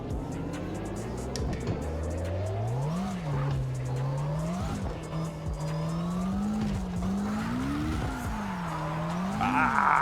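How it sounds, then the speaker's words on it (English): Engine of a car in a racing video game, played on a Moza R5 wheel, revs and wavers as the car spins out, with tires squealing in rising and falling arcs for about ten seconds. "It's like as soon as you give this car a bit of throttle,"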